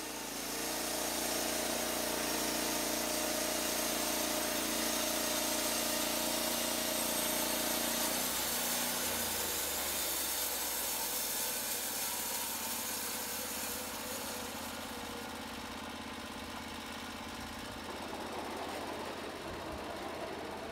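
A loud sawmill engine drones steadily and close by, its pitch dropping partway through as it eases off, with no voices.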